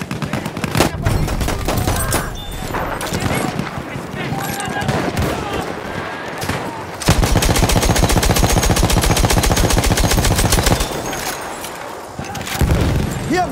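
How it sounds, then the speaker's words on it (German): Sustained machine gun fire in the Battlefield 1 video game, a dense, loud rapid-fire rattle with bursts of other gunshots and blasts, voices shouting over the battle noise. "aufpassen, Maschinengewehr!"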